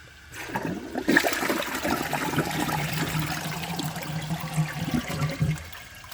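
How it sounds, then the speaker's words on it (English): A 2017 Sterling Windham toilet flushes during a cloth test, its tank emptying in a loud close rush of water that swells, holds and tapers into trickling. "So I'm just going to empty the rest of the tank out and see if I can make it pass when I angle it."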